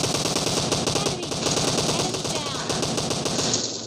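M762 rifle in the game PUBG firing rapid sustained automatic bursts, loud and continuous, with a player's voice faintly underneath.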